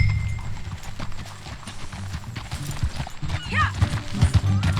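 Horses ridden at a steady pace in the Red Dead Redemption 2 video game, with rhythmic hooves clip-clopping over ground, close, accompanied by a brief whinny and background game sounds.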